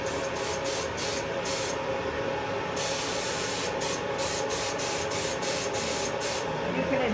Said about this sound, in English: And then we'll start spraying.